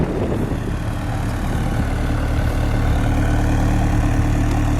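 A 1986 Chrysler LeBaron Town & Country convertible idles steadily at close range, a low, even engine rumble that holds unchanged with no voices.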